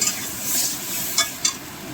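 Hog plums fry in spices and turmeric in a pan while a utensil stirs them, with two sharp scraping clinks against the pan near the end.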